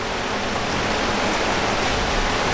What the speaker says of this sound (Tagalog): Ulan lang, ulan.